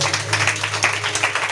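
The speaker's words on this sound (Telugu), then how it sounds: "చప్పట్లు కొట్టండి ఒకసారి" Church congregation clapping together at a preacher's prompting during a Telugu prayer service, a dense continuous patter of many hands sustained through the moment with no voices over it.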